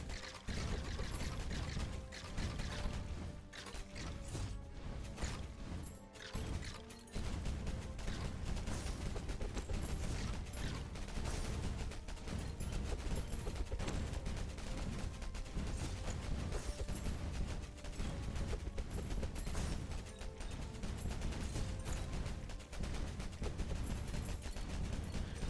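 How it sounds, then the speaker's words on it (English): A dense, unbroken barrage of many explosions going off at once in the Tower of Babel video game crackles and rattles quietly throughout, like a fireworks finale. "It sounds like a bunch of explosions going off at once."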